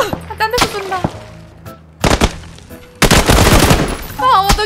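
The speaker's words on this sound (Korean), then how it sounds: "아, 딴 데서 쏜다." Video game gunfire: sharp bursts of rapid automatic shots come in loud clusters between brief pauses, ending in a long continuous volley, with a player's voice breaking in briefly among them.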